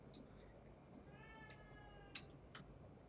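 A cat lets out a single faint, drawn-out meow in a quiet indoor space, accompanied by a few soft clicks over a low background hum, with no one talking.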